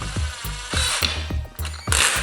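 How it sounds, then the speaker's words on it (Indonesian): A weakly charged cordless drill spins a stepper motor used as a dynamo, in short bursts that rise and stop about seven times, each with a low whirring hum and a mechanical rattle. "untuk penggeraknya saya menggunakan bor ya, menggunakan bor ini"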